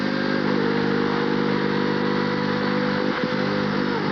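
A Formula 1 car engine at the 1990 French Grand Prix at Le Castellet screams at high revs in an onboard view, a sustained, loud, buzzing tone with a brief dip near the end.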